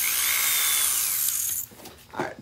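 A power drill whirs steadily through cast resin pieces, close and continuous, then cuts out, followed by a few light handling knocks as it is set down.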